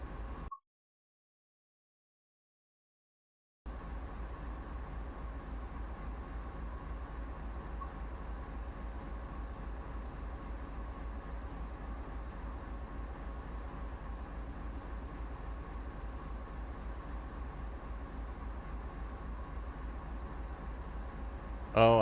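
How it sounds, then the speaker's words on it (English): A train in the video game Train Sim World 5 rolls forward with a steady, low rumbling drone and a faint hum. The sound cuts out briefly near the start, then runs evenly and continuously with no voices. "We're going to pull this train forward"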